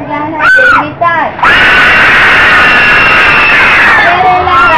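A loud crowd erupts into sustained shouting and screaming after a brief burst of voices, roaring steadily for several seconds before easing slightly.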